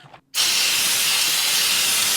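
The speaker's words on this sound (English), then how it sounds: "Oops, starting to spray out of the can there. Can's not sealed very well." After a brief pause, undercoating mixed with hardener sprays out of a poorly sealed aerosol can onto a Chevy COE truck cab, a loud, steady, close hiss that continues without a break.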